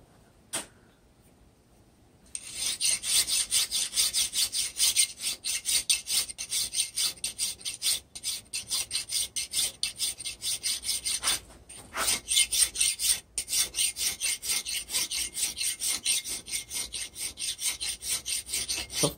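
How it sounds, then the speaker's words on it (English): A finer hand file works a brass inlay set into steel, giving steady rhythmic rasping strokes, close and fairly loud, repeated back and forth after a short quiet start. "I'll move to a finer file now."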